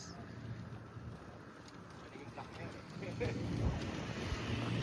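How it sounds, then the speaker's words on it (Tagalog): Strong wind gusting across an open-air pigeon racing training site in New Zealand, a faint continuous rushing buffet that grows stronger toward the end, with speech around it. "Lakas ng hangin."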